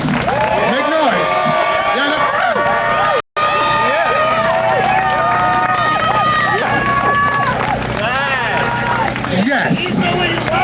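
A crowd at an event hollers and cheers loudly, overlapping whoops, yells and babbling voices rising and falling close by, with a brief dropout partway through.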